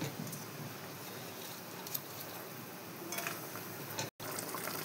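Fish pieces slipped into a simmering mustard curry broth in a pot, giving a steady bubbling, watery hiss that stays even throughout, with a brief dropout near the end.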